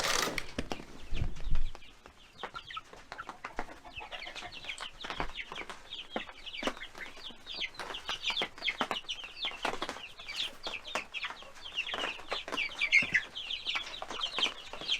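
Speckled Sussex chickens, a heritage breed raised for meat, cluck and chatter steadily on a farm on a rainy day, with many overlapping close calls and brief wing flaps and no talking.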